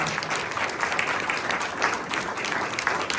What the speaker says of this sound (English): Let's have a big round of applause for all the candidates.